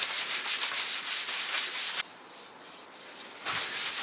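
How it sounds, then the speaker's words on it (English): A cloth wipes excess finish off a small restored wooden desk in repeated brisk rubbing strokes, close and fairly loud, with a short pause midway before the rhythmic swishing resumes. "And then wipe off the excess."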